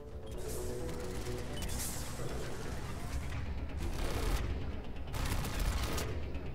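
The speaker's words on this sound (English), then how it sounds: "I hear a turret." A turret fires in Mass Effect 3 Legendary Edition: a steady, dense barrage of rapid shots, loud and continuous, with sharper bursts standing out near the end.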